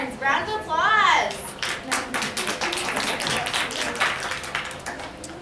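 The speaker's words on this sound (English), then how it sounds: "Round of applause." A short burst of voice gives way to steady applause from a small group, with dense clapping continuing to the end.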